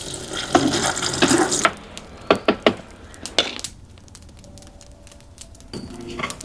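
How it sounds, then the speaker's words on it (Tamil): Spiced soya meat is dropped into hot oil, setting off a loud rushing hiss that quickly settles into a quieter bubbling fry with occasional sharp spatters. "எண்ணெய் பார்த்தீங்கன்னா நல்லா சூடாகிட்டு நாங்கள் மிக்ஸ் பண்ணி வச்சுருக்கிற சோயா மீட்டை போட்டு பொரிப்போம்."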